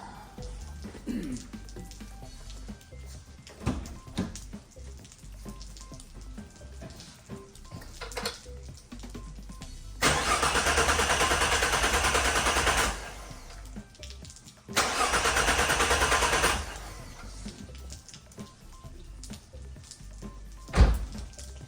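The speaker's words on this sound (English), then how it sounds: "you're gonna get in your car and you're gonna crank it until it dies" A 3.7-litre Mustang engine cranking with its fuel pump fuse pulled, two loud, steady bursts of starter cranking of about three seconds each, close by and separated by a short pause, with quieter handling noises around them.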